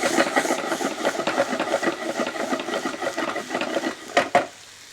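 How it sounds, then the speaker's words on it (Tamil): Okra sizzles and hisses in a hot pan as coriander powder is added and tossed, with continuous crackling and scraping stir sounds, then two sharp clanks near the end before the sizzle settles. "இந்த இடத்துல அந்த மல்லித்தூளை போட்டு திருப்பி பேனில் டாஸ் பண்ண ஆரம்பிக்கிறேன்."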